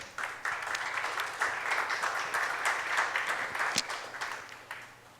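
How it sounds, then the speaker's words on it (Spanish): A church congregation applauds in a steady, dense wash of clapping that holds for several seconds and then tapers off, with faint voices mixed in. "Dale un aplauso al Señor, pues."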